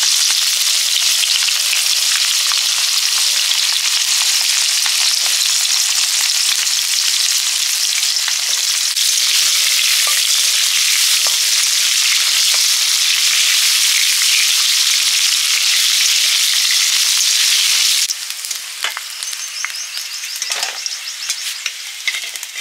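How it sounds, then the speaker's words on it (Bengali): Bitter gourd and other vegetables for a Bengali shukto sizzle steadily in hot mustard oil, with a loud, continuous frying crackle and occasional stirring clatter toward the end. "এবারে শুক্তোর সবজিগুলো ভেজে নিচ্ছি পরপর।"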